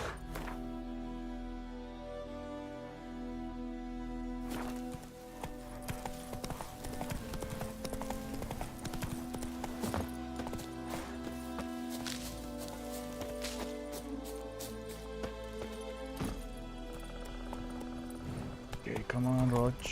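In The Witcher 3, the horse Roach trots with a steady, close clip-clop of hooves that continues under someone talking, with game sounds mixed in.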